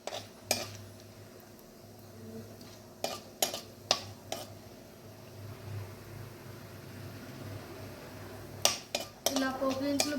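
Tempering spices sizzle in hot oil in a pan while being stirred for tamarind pulihora, with soft frying hiss broken by sharp clinks of a spoon against the pan and a quiet room hum.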